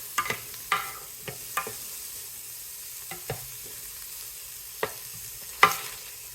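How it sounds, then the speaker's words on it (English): Food frying in oil in a preheated Ninja cooker, a steady soft sizzle with scattered crackles and a few sharper pops, heard close and alone. "I really like that sizzle because it seems like it heated up very nicely"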